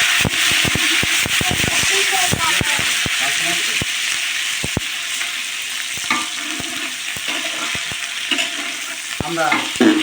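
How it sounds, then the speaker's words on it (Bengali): Onions, garlic and green chilies frying in hot oil, a steady broadband sizzle with frequent sharp scrapes and knocks of a spoon stirring the pan, close and continuous throughout. "এটা সুন্দর করে ভেজে নেব।"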